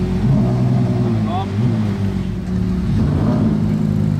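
A Ferrari 812 Competizione pulling out at a Ferrari rally at Le Mans, its engine a loud, steady drone close by with a slight rise in revs, and someone talking over it.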